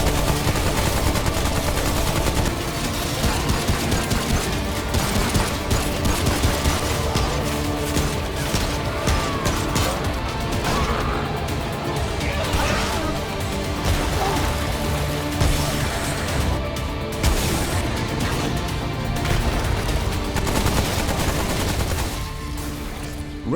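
Constant gunfire from the third-person shooter Remnant: From the Ashes, a dense barrage of rapid shots and impacts running the full length at high level, with other game effects mixed in and a voice faint beneath.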